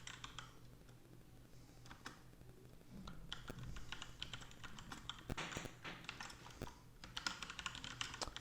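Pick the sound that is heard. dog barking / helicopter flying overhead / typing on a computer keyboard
typing on a computer keyboard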